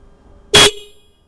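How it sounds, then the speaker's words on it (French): The stock horn on a Suzuki V-Strom 800 DE motorcycle gives one short, loud honk, sharp and alone, then quiet. "On va quand même écouter le son de l'ancien klaxon avant de le démonter"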